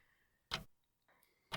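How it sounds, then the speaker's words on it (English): An old clock ticking, sharp loud ticks about once a second standing alone over a quiet background with faint tonal hum between them. "The sound of a clock singing on repeat."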